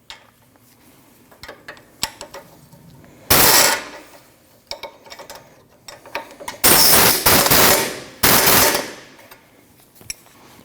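A ratchet tightens the lower ball joint bolt and nut on a Ford Escape front suspension, heard as three loud bursts of rapid metallic clicking, each lasting about a second, separated by quieter scattered ticks and handling clatter.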